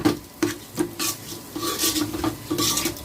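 Rice frying in a pan with a little mustard oil, stirred with a utensil that scrapes and clinks against the pan in repeated close strokes over a faint sizzle.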